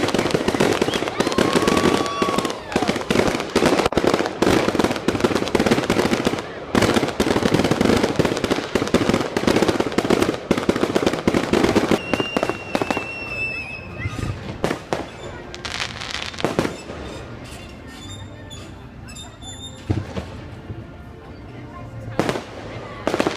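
Backyard Fourth of July fireworks burst and crackle in a dense, loud barrage of sharp bangs, with a few whistling rockets rising, and the volley thins out toward the end while people talk and react nearby.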